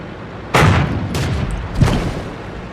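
Artillery shells landing in World of Tanks, three sharp booming blasts spaced unevenly, each with a short rumbling tail over a low background hum, no voices.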